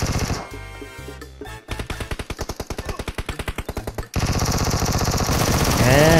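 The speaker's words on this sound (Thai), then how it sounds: "กำลังยิงศัตรูที่อยู่ด้านนอกอยู่เลยครับ" Rapid automatic gunfire in the mobile battle-royale game PUBG Mobile, loud bursts of close shots in fast rhythm followed by dense sustained firing, with no talk.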